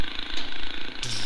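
A lawnmower engine in the physics game Happy Wheels, a loud, rough buzzing rattle that breaks off partway and shifts to a lower hum.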